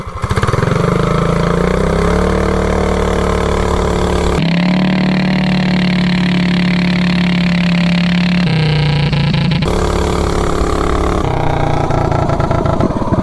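A 420cc big block minibike with a 30 series torque converter roars loud and close for the whole stretch, its engine note climbing and shifting pitch as it launches and pulls, with no talk over it.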